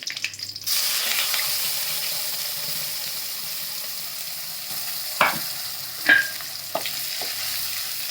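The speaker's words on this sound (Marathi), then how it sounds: "तेल तापलं की त्याच्यामध्ये दोन तामालपत्र टाकते कढीपत्ता टाकते" Bay leaves and curry leaves dropped into hot oil, a steady close sizzle after a short initial burst, with a few sharp spatters and pops toward the end.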